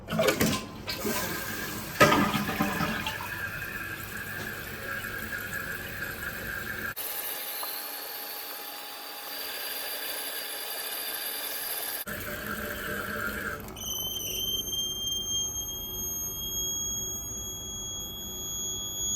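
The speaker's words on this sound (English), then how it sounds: "sometimes it squeals just from flushing it, so let me try that before I replace this." Household toilet flushing with a loud rush of water, then refilling as the tank valve gives a steady high-pitched squeal and whine that persists to the end.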